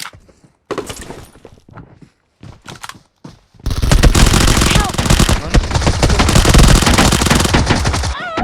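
Gunfire in the video game PUBG: scattered single shots give way to a loud, sustained machine-gun burst. Players can be heard shouting under and between the shots.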